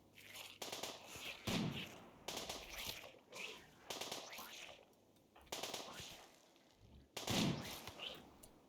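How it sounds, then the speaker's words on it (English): Sniper rifle gunfire from the video game RimWorld, a series of loud separate shots spaced roughly a second apart, each with a short hard crack and brief decay. "That sniper rifle's pretty powerful."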